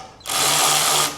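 A short, loud burst of a power tool removing motorcycle pinch bolts, whirring at high speed for about a second, then stopping.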